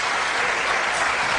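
Dense, steady applause from a church congregation during a Portuguese-language sermon and pastor's testimony, filling the short moment at even loudness with no voices over it.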